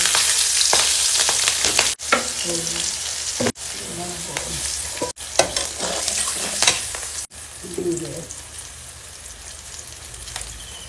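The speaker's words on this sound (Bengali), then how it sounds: "এবার তেল ফুটে গেল, এবার লঙ্কা ভাজা বসাই দেবো" Loud sizzling and crackling of green chillies frying in hot oil for a Bengali hilsa dish, broken by a few brief pauses, with stirring clatter in between.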